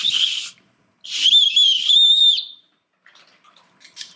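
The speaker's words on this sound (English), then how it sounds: "And it's got A rape whistle." Small rape whistle built into a travel cutlery kit with a spork and bottle opener, blown in two shrill, piercing blasts close up, a short one then a longer wavering one, followed by faint rustling.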